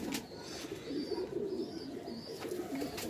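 Punjabi pigeons coo in a low, repeated throaty rumble, close and steady across several calls, with a few faint higher chirps from other birds around.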